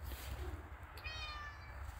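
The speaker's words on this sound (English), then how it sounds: "That's one of the cats, Tom." A domestic cat gives a single drawn-out meow, quiet and fairly close, over a low steady room rumble.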